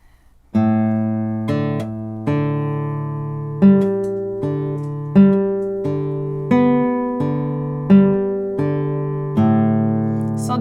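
A nylon-string classical guitar plucks the steady opening arpeggio of Barrios' "La Catedral" III, starting on the fifth string, evenly spaced notes ringing into each other, clean and close with no talking.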